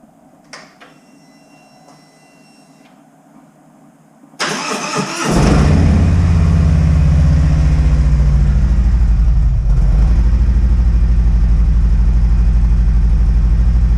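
A 2017 Harley-Davidson Street Glide with stock exhaust cranks and fires on a cold start, then settles into a loud, steady, deep idle that fills the rest of the stretch after a faint whine at the beginning.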